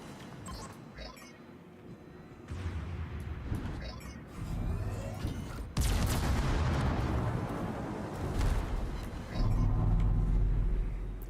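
Heavy naval gunfire from World of Warships, with deep booming salvos and rumbling blasts building in force and loudness. Several big volleys crash in, layered with a continuous low roar and some speech.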